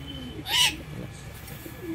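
A male Giribaz flying pigeon gives soft, low cooing murmurs broken by one brief, sharper high sound near the start, against a quiet background.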